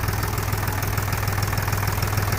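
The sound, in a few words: tractor engine idling while hydraulic lift is raised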